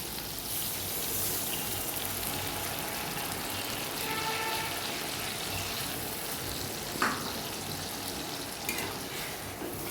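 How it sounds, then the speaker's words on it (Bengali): Steady sizzling and crackling of fried spice paste in a hot pan, continuous throughout, with a brief splash-like burst as water is added partway through. "এবার আমি ওই ভাজা মশলাটার মধ্যে অল্প জল দেব"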